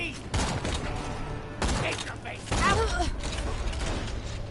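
Sniper rifle shots ring out in Borderlands 2 gameplay, with sharp cracks near one-third second, 1.6 seconds and 2.5 seconds, mixed with mechanical reload clicks, game effects and someone talking.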